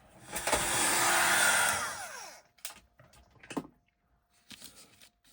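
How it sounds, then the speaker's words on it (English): A heat tool blows hot air to set ink on a handmade card, a steady whooshing drone for about two seconds before it shuts off, followed by a few faint handling clicks and taps. "Just going to heat set this now."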